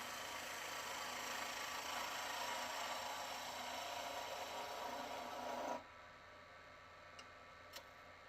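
A spindle gouge smooths the face of a wooden log on a lathe, a steady broadband rasping scrape lasting several seconds before cutting off, leaving only a quiet hum with a couple of faint ticks.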